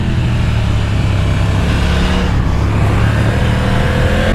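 A motorcycle engine revs hard on a race circuit while the rider struggles through gear changes, a loud continuous drone with low harmonic tones shifting pitch, close and steady throughout, no voices.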